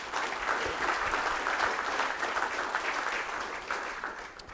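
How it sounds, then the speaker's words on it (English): Audience applause for a presenter at the Iowa Swine Day 2022 conference, a steady wash of clapping from a seated crowd lasting several seconds, moderately loud and fading slightly at the end. "Let's start with a round of applause for our presenter."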